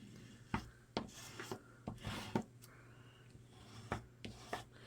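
A bone folder scraping paint off a handmade card, a series of short dry rasping strokes in an uneven rhythm, close and quiet with no talking.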